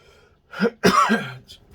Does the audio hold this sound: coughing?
yes